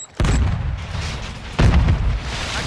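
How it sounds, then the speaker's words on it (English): A sticky grenade goes off in a first-person shooter, landing as a heavy, close boom, with a second deep blast rumbling about a second and a half later and no talk over either. "Tossing sticky grenade."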